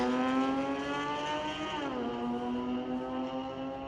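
A 2022 Golf R and a Porsche drag race at Mission Raceway Park, a steady engine whine heard from a distance that rises, then drops in pitch partway through as it shifts or passes, with no talk.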